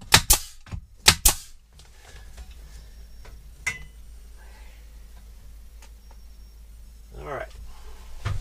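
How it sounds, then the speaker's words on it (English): A nail gun fires nails into a bathroom ceiling during a rustic remodel, with two or three sharp, close bangs early on and a few fainter knocks and taps after, with a voice talking briefly. "Shoot a couple nails."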